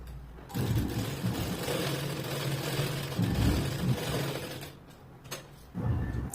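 A sewing machine stitches the sleeve of a long-sleeved blouse with a steady mechanical whirr of rapid needle strokes, breaking off briefly around the middle before running again.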